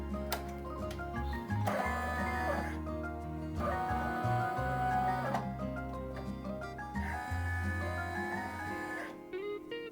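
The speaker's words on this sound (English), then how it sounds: "now we're going to trace it to make sure it fits in our hoop" Home embroidery machine tracing a design outline in its hoop, a close motorized whir that shifts in pitch as the hoop moves in separate runs, with stepping hums between them.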